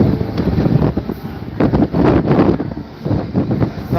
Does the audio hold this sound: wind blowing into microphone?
yes